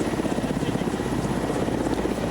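An Mi-8 helicopter produces a loud, steady, close rotor and engine drone that runs continuously without a break.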